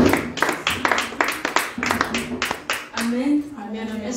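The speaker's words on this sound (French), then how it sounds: "Et pendant qu'elle avance, nous acclamons notre Seigneur." A church congregation applauds the Lord during a worship service, rhythmic clapping in steady beats mixed with voices and singing, fairly close and lively.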